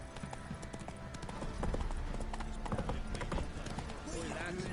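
Roach the horse from The Witcher 3 running with rapid, steady clip-clop hoofbeats close by, a faint snort near the end, under light background sound.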